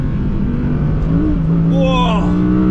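V10 Audi R8 engine on the overrun during a downshift, a loud close engine drone with a quick blip and rising burble as revs jump, while a person speaks over it.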